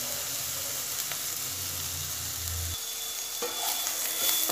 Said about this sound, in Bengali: পাতিলেবুর রস আর ধনেপাতা কুচি দিয়ে আবারও ভালো মতো নাড়াচাড়া করে দেব।